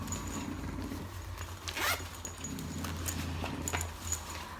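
Clothing zipper pulled open and shut, a quick rasping zip near the middle over steady low background hum, with a few faint rustles around it; no talking.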